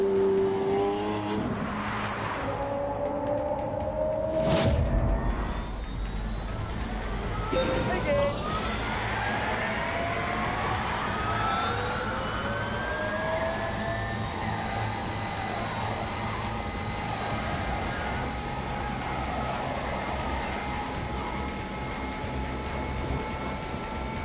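Hybrid supercar in The Grand Tour video game accelerates, its engine note sweeping upward through several rising gear pulls after a sharp early crack, loud and continuous, with whining tones trailing off.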